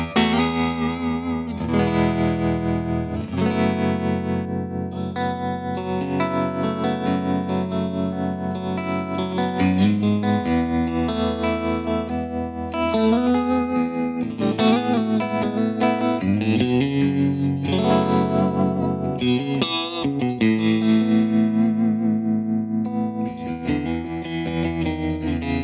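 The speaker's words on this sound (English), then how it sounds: "There's also a tremolo on this thing." An electric guitar is played through a Tone King amp with tremolo and effects on, giving sustained, wavering chords and notes that ring continuously at a moderate level with no talking.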